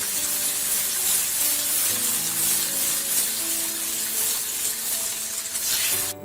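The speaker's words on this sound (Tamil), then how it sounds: "பட்டர் ஆட் பண்ண வந்து கண்டினியூஸாக ஸ்டிர் பண்ணி விடுங்க. ஸோ இந்த மாதிரி பொங்கி வரும்" Butter foams and sizzles in a pan as cake mixture is stirred continuously, a dense steady hiss filling the whole stretch at close range with faint tonal hum beneath.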